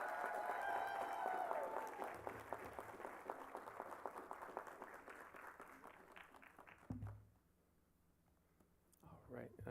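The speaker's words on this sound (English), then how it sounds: "Would you please give our honorees a round of applause?" At an honor society induction ceremony, the audience claps for the inductees: a fairly quiet, crowded patter of applause that runs for several seconds, then dies away as a voice speaks.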